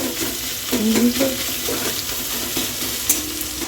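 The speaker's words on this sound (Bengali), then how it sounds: "পেঁয়াজটাকে ভালো করে ভেজে নেব" Onions frying in oil in a home pan, giving a steady, close hiss of sizzling with a few scraping stirs of a spoon.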